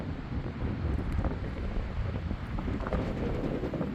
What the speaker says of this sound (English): Yeah, wind's kicking up good now.